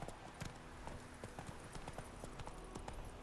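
A horse clip-clops at a steady ridden gait in The Witcher 3: Wild Hunt, with regular hoofbeats that sound close and fairly quiet and carry on throughout.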